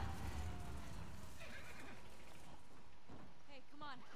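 A horse in the video game The Last of Us Part II whinnies with a rising, wavering cry near the end, heard over dense game noise and rumble.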